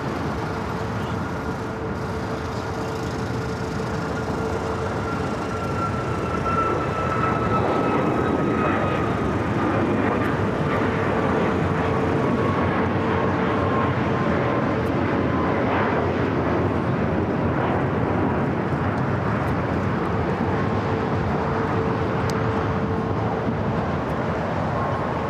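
An Alaska Airlines Boeing 737 in Seattle Mariners livery at Los Angeles International Airport, its engines giving a sustained, moderately loud roar with a whining tone that slowly bends in pitch, steady from start to finish and free of speech.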